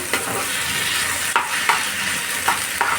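Rice with cinnamon and whole spices being stirred in a pan for jeera rice. A steady frying sizzle is broken by periodic scraping strokes of the spatula, close and fairly loud, with no one speaking.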